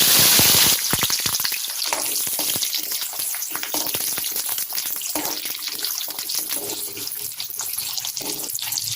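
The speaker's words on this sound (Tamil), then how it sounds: "எண்ணெய் காஞ்சதும் கடுகு வெந்தயம் கடுகு வெந்தயம் பொரிஞ்சிச்சு இப்போ சின்ன வெங்காயம் சேர்க்கணும்" Shallots sizzle loudly in hot sesame oil with spluttered mustard seeds and fenugreek, cooking for a tamarind kuzhambu with brinjal and okra; a steady, dense crackle and hiss runs throughout with no talking.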